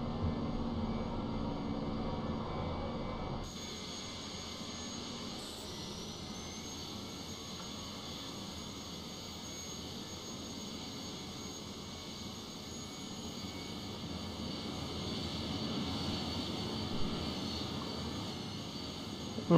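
A steady airplane engine drone in Flight Simulator, a continuous broadband roar with a faint high whine that runs alone throughout, stepping up slightly in level after a few seconds.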